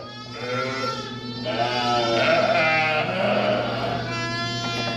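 A ewe kept in a lambing jug bleats in long, wavering calls, close and fairly loud, over a steady background hum with no talking.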